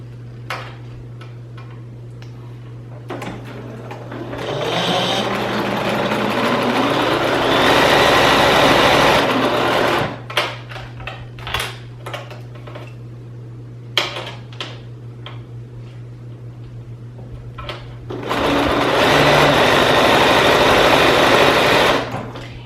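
Domestic sewing machine running a straight stitch along a 3/8 hem, with loud bursts of rapid mechanical whirring separated by pauses, quieter clicks and handling noises, all close up.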